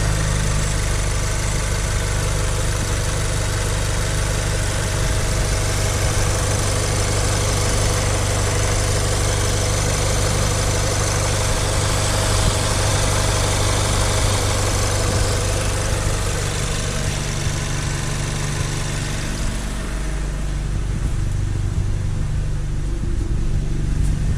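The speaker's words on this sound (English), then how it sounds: "Now that it's settled down to a nice quiet idle." A Volkswagen Golf R with a catless downpipe and stage 2 tune idles steadily, a constant low engine rumble with vibration, heard close and alone for the whole stretch.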